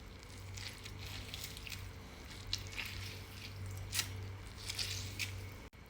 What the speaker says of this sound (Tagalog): Skusan natin ng lemon.